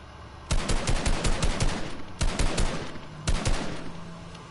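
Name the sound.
pistol shots in Fortnite video game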